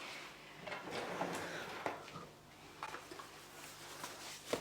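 A household drawer slides open faintly amid quiet room hiss, with soft wooden scrapes and small clicks of items shifting inside.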